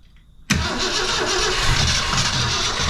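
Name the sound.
1966 Ford Fairlane 390FE engine cranking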